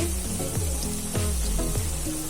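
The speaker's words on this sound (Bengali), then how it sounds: "ডাঁটা আর আলু দিয়ে দিয়েছি কষানোর জন্য।" Vegetable stalks and potatoes fry in hot oil in a pan for a catfish curry, a steady close sizzle with a few soft stirring scrapes spaced about half a second apart.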